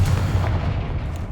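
A Confringo blasting spell goes off in the Hogwarts Legacy video game, giving a short, heavy boom with a rumbling low burst that fades over about a second.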